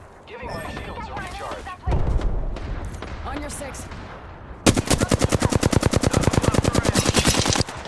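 Gunfire in the shooter game Apex Legends: scattered shots and impacts first, then a loud rapid automatic burst of evenly spaced rounds, with no talk.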